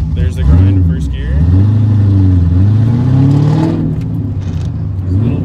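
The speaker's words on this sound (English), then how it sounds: "Here goes, there's the grind in first gear." A cammed C5 Corvette Z06 idles and pulls away in first gear with a lumpy, rough engine note and some gearbox grinding, close and loud, with someone talking over it.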